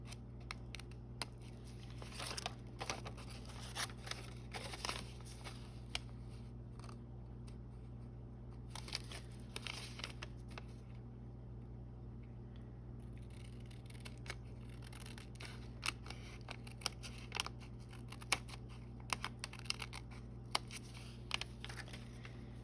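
Scissors trimming thin slivers off folded origami paper for a bow-shaped paperclip, heard as a string of small, close, crisp snips and light paper rustles scattered over a steady low background hum, with no talking.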